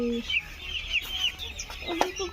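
Chickens at a poultry farm clucking in short, close bursts over a low steady hum, with a few sharper calls near the end.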